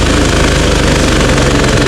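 A rice thresher engine runs at full tilt during a harvest, and it has been smoking. It gives a loud, continuous, rapid knocking rumble, close and steady, with no talk over it.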